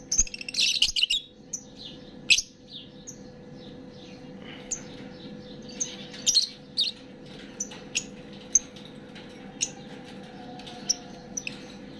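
Pet birds for sale chirp in short, scattered bursts, some clustered and some isolated, over a faint steady hum in a quiet setting.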